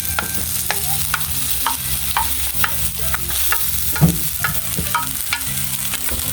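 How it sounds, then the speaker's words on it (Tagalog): Carrots and potatoes frying in cooking oil, a steady crackling sizzle with repeated soft scraping stirs and clinks at a fairly even rhythm, close and moderately loud throughout, with no voices. "lutuin muna natin itong carrots at saka patatas dito sa mantika"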